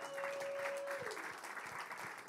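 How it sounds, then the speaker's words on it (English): A congregation applauds the worship team with a steady wash of hand clapping, moderately distant and fairly quiet, while a lingering sustained tone fades out in the first second. "can we give the worship team a big hand clap?"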